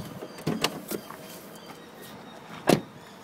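The bonnet of a 2010 Holden SV6 Ute is released and popped open with a few sharp clicks and a firmer latch clunk near the end, heard close up against a quiet background.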